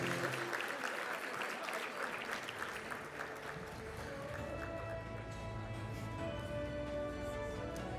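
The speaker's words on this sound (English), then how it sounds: "A round of applause to all of our winners in this category." Sustained audience applause fills a hall at the NOSM University Achievement Celebration 2024 award ceremony, a dense steady wash of many hands clapping that holds at an even level throughout.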